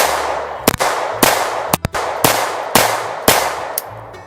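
Handgun shots from a .22LR or .25ACP pistol fired outdoors, six or seven sharp, loud cracks spaced roughly half a second apart with short echoing tails.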